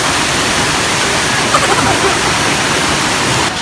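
Waterfall at Villa Escudero in the Philippines, a strong, steady roar of falling water that fills the whole clip as continuous broadband rushing noise, close and loud with no letup.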